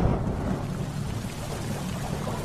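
Heavy rain pours steadily in a film scene, a dense continuous wash of downpour with a low rumbling undertone, loud and even throughout with no voices.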